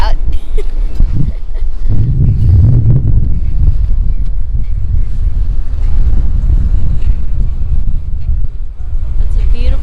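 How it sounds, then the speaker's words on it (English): Steady wind roaring across the microphone aboard a motoring sailboat near Seattle, a continuous low buffeting rumble with boat engine and water noise underneath, loud and close throughout. "it's kind of windy out."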